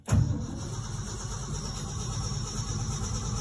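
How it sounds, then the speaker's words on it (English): A 1972 Ford F-250 Camper Special engine, cold at around 34 degrees, fires with a short loud burst and settles straight into a steady, low, rumbling idle. "here's the cold start of the Ford F-250"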